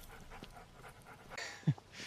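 A dog pants softly while being walked, a faint, low-level breathing rhythm sitting under light background noise, with a short louder bump near the end.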